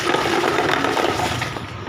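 Water pouring into a container, a loud, close gushing splash that runs steadily for a couple of seconds.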